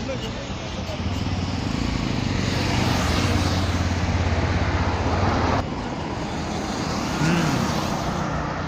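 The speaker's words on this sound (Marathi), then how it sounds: "हे काय लँडिंगसाठी विमान एकदम जवळून आलंय" A passenger airplane landing close by at Navi Mumbai International Airport at night, a loud sustained engine roar that builds and peaks mid-clip before dropping off abruptly, with a low droning rumble underneath.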